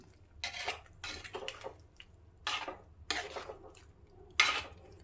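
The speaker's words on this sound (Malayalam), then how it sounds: "ഒന്നിളക്കി കൊടുക്കാം" A spoon scrapes and stirs around a pot of yam curry in several short bursts, soft and close, with quiet pauses between strokes.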